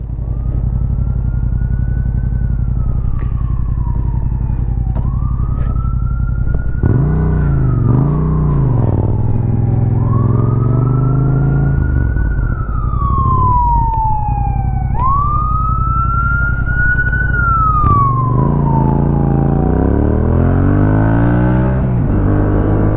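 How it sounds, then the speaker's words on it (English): Several emergency vehicle sirens wail past on the road, rising and falling sweeps overlapping loudly for the whole stretch over the steady rumble of a 2022 Yamaha MT-07 motorcycle engine and traffic. "Why do I hear sirens?"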